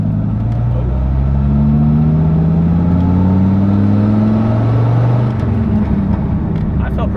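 A Dodge Viper with a manual transmission pulls away in second gear, its engine a deep, loud, rising drone that climbs steadily and then drops, with a voice speaking over it.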